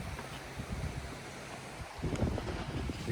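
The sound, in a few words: warm wind blowing by the river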